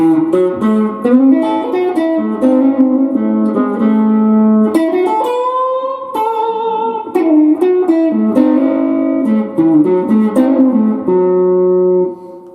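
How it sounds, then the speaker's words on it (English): An electric guitar plays a bluesy lead line of bent notes and quick runs, loud and close, with short pauses between phrases. "a lead line in a Uptown blues might sound something like this"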